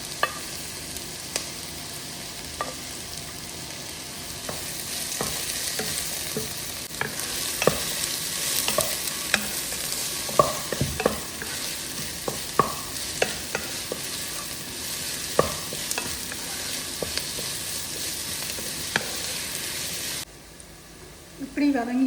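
White and red onions sauté in a pan with a steady broadband sizzle, punctuated by frequent clicks and scrapes of stirring, before the frying cuts off near the end and a brief voice follows.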